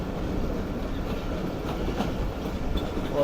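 Karakoram Express train running along a curve, a steady loud rumble of wheels and carriages with faint rhythmic clatter, no voices.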